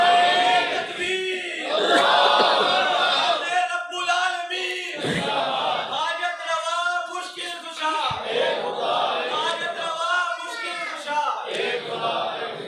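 A large crowd inside a mosque loudly chants the slogan of Tawheed, a sustained roar of many voices rising and swelling in waves that continues throughout.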